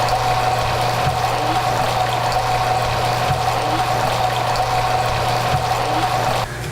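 A pump running steadily flushes fresh water through a CAT C18 marine engine and out the overboard discharge, a constant loud hum and rushing flow with faint periodic pulses, no voices.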